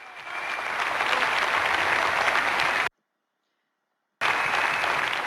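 A live audience gives a sustained burst of applause after a song, close and steady. It breaks off into total silence partway through, then resumes at full strength.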